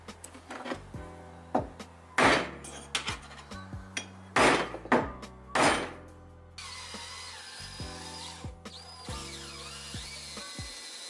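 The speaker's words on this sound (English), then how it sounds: "all we gotta do is center punch our holes" Center punching holes in a metal brake booster plate, with several sharp metallic hammer strikes in irregular rhythm, followed by a higher whirring tool sound, close and fairly quiet.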